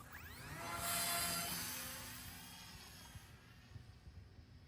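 A Volantex 500mm RC P-51 model airplane flies past outdoors on its maiden flight, its motor rising to a loud whine overhead and then fading into the distance, with no talking.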